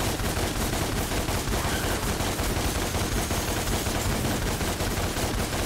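Loud, dense gunfire from the video game DmC: Devil May Cry rattles on nonstop in rapid automatic bursts, with no voices over it.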